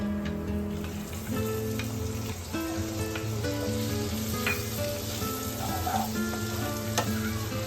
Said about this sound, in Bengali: হালকা লাল করে ভেজে নিব ততক্ষণ এটা হালকা লাল করে ভাজা হচ্ছে